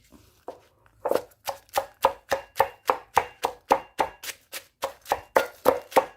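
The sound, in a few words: crushing shallot, garlic and chili in a mortar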